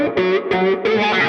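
An electric guitar through a wah pedal plays a lick: three distorted, swelling note phrases with a sweeping vocal-like tone, loud, close and alone.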